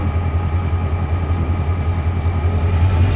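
Diesel locomotive idling and pulling just ahead on a scenic train ride in Bryson City, North Carolina, a loud steady low engine throb with a droning hum, close by and continuous, with no talking.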